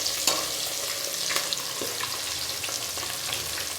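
Fish frying in a pan makes a steady, close hiss and crackle with small popping spatters throughout, and no voices over it.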